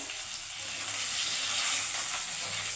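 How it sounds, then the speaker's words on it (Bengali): Bhetki fish fries gently in oil over a low flame, giving a soft, steady sizzle and hiss that stays quiet and even throughout, with no talking. "দেখো হালকা আঁচে মাছটা ভাজিয়ে দিই, বেশি গ্যাসটা চালাইনি।"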